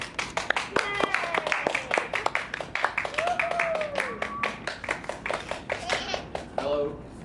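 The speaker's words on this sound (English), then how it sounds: "So let's give it a shot, a warm round of applause for Neil." Scattered, fairly close hand clapping from a small audience welcoming a poet to a poetry reading, mixed with voices, a cheer and chatter over the claps.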